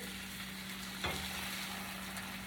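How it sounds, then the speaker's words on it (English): A potato latke slipped into hot oil to fry its second side, giving a low steady sizzle with a brief louder splash as it goes in, no talking. "now our oil is hot and we're ready to get the other side cooked. So just slip it in there."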